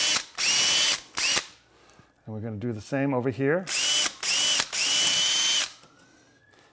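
Several loud bursts of a power drill whining near the mic as it drills into plaster over lath, separated by pauses, with someone speaking briefly in the middle.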